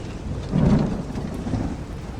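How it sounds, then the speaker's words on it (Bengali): Steady rain pours down while a low rumble of thunder rolls through, with no voices. "নিমেষের মধ্যে শুরু হলো বৃষ্টি তার সঙ্গে ঘন ঘন বাজ পড়াও আরম্ভ হলো"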